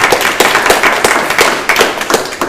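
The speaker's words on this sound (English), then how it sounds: "Let's clap." Participants at a school district education advisory council meeting clap together, a close, loud patter of overlapping hand claps with an uneven rhythm that runs throughout.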